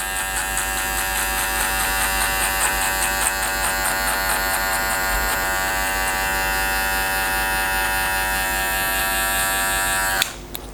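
Electric hair clippers with the blade open buzz steadily and loudly while cutting a skin fade, a constant high whine that cuts off abruptly near the end with a small clack.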